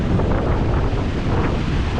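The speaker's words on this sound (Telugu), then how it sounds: "బాగుంది గోదావరి దగ్గర ఈ చల్లగాలి" Cool wind beside the Godavari river near the Dowleswaram barrage buffets the microphone in a steady, loud, roaring rush with no voices.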